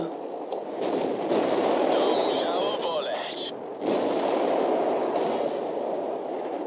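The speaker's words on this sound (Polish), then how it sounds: "Pierdolona artyleria." Artillery fire in a tank battle video game, with a loud booming blast that rolls on into a sustained rumble before a second heavy hit, while someone talks over the noise.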